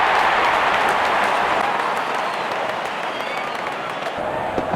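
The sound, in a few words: cricket stadium crowd cheering and applauding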